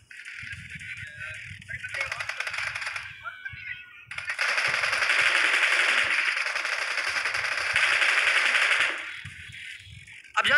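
Gunfire in the video game PUBG: a short burst of dense rapid shots, then a longer sustained stretch of automatic fire lasting several seconds, fairly loud, with quieter low rumbling in between.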